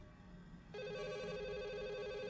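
A telephone in the video game Firework starts ringing partway through, a loud, steady electronic ring that continues to the end after a quiet start.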